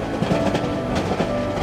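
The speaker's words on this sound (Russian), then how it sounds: "а мы в поезде, как я и сказал." Train ride in the horror video game Cry of Fear, a continuous dense rumble of a moving carriage with faint rhythmic clatter, loud and close, no talking.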